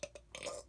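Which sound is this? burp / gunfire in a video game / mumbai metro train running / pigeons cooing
burp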